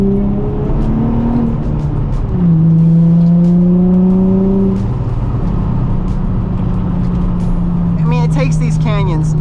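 A Nissan 350Z accelerates hard in second gear after a downshift on a canyon road, the engine note rising and falling steadily inside the cabin while a person talks over it.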